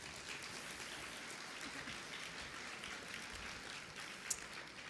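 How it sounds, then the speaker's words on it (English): Audience applause for student speaker nominees at a medical school Match Day ceremony, a steady wash of many hands clapping for the full length, moderately distant with no voices on top. "Quick round of applause for them."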